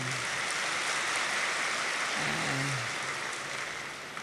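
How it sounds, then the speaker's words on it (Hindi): A seated audience at a spiritual class claps together on request. The sound is a broad, even wash of clapping, sustained and fairly loud throughout, easing slightly toward the end. "ताली बजाओ।"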